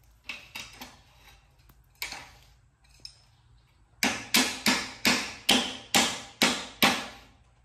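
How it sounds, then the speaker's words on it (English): Hammer blows drive rear cab mount spacers into place on a 1970 Chevrolet C10 pickup, a few scattered metallic knocks followed by a steady run of eight loud, evenly spaced strikes, close and without talking. "I need to just take a hammer to it."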